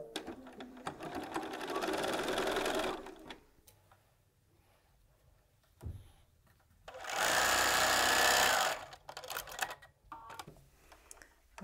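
A sewing machine runs a quarter-inch seam along folded charm pack fabric, whirring loudly in two sustained bursts separated by quiet moments of fabric handling and a brief clunk.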